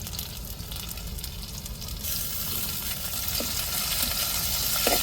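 Stone-ground ginger-garlic paste fries with onions for a mutton curry, giving a steady, close hissing sizzle that swells slightly partway through, with faint stirring scrapes and no talking.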